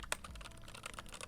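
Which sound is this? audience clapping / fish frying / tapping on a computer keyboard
tapping on a computer keyboard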